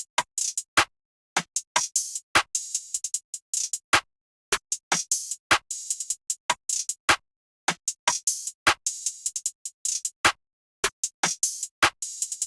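Trap-style drum pattern built around a south side snare and an open hat, with sharp, crisp hits firing in a steady bouncing rhythm, close and dry with no other sounds.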